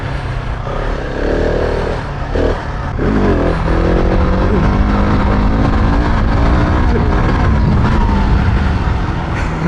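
A Husqvarna 701 Enduro single-cylinder motorcycle revving hard during wheelies, a loud sustained engine roar that dips briefly then climbs and holds, heard up close with wind buffeting.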